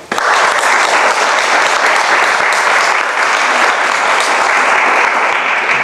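Dense, loud audience applause fills the whole stretch at a writers' event, a steady wash of many hands clapping with no voices breaking through.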